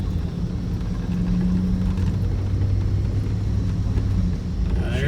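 A 1987 Chevrolet Suburban drives with a steady low engine rumble and road noise heard from inside, the drone holding through a gear shift.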